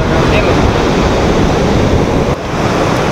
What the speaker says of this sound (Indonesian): kita udah hampir sampai di bibir pantai